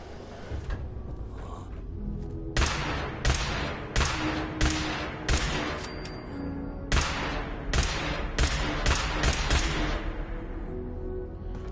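Pistol gunfire in Fallout 4, rapid bursts of sharp shots fired in quick succession with short pauses between volleys, loud and close throughout.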